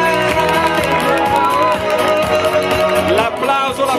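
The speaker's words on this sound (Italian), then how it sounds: "L'applauso, l'applauso di capo imperatore per Pavel Sivakov" Spectators cheer at the finish of the Giro d'Italia Under 23 cycling race as the winner and medalists are honoured. Loud, close shouts and whoops rise and fall in a lively, continuous crowd roar.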